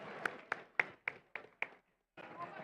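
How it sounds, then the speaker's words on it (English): Faint, scattered clapping from a small audience at a robotics competition comes in a handful of separate claps, breaks off briefly, then resumes as a soft patter. "Please give a big round of applause to Alliance number 6"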